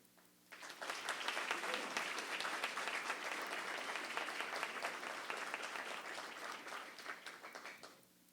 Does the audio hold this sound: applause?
yes